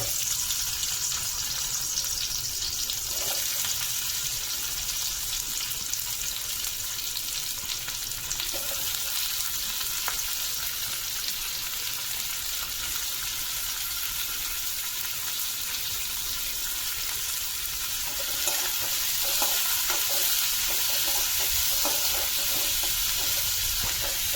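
Onion frying in hot oil in a kadhai for crab masala, a continuous even sizzle that holds steady throughout with a few faint clinks and no voices.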